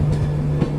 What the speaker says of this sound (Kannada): ಸ್ಲೋವಾಗಿ ಹೋಗ್ತಿದೆ ಟ್ರೈನ್, ಸಖತ್ ಸ್ಲೋ ಗೈಸ್